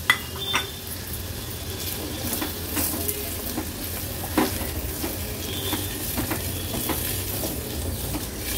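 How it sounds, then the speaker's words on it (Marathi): Pieces of sweet potato are sautéed in ghee over a low flame, giving a soft steady sizzle with occasional scrapes and clinks of a spoon against the pan. "ह्या रताळ्याच्या ज्या फोडी आपण केल्यात ना त्या तुपावर थोड्याशा परतून घ्यायच्या आहेत आपल्याला।"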